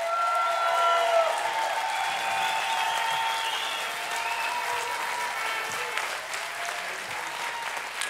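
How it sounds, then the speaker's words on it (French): Sustained applause from an audience at a Vendée Globe press conference honoring a finishing sailor, a dense steady clapping ovation that holds evenly from start to finish and fades slightly at the end. "une ovation pour le Breton."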